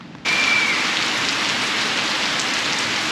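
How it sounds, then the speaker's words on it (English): Steady rain falling over lush gardens in Melaka, Malaysia, starting abruptly and continuing as a dense, even hiss of drops on leaves and surfaces, close and fairly loud, with no talking. "But the rain here is really nice."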